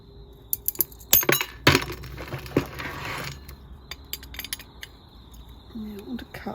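A ceramic cup handle is cut across with mosaic nippers, with sharp clicks and a crunching snap of china, then small clinks of pieces, close and fairly quiet.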